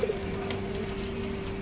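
A pigeon cooing softly and steadily close by, among a keeper's breeding pairs in Malad, Mumbai, with a faint hum underneath the low, continuous call.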